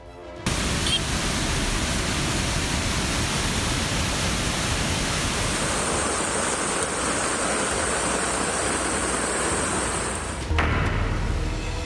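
Floodwater surging in a broad, steady roaring rush during heavy monsoon flooding in Maharashtra, Gujarat and Rajasthan, loud and unbroken for the whole stretch with no voices.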